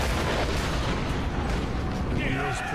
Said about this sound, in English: precision cannon firing